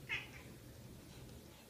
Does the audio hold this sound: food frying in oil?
no